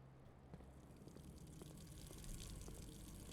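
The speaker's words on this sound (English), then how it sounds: "The water's still running." Running water in the Blue Prince video game, a steady faint gushing stream like a tap left on, continuous and even throughout with no talking.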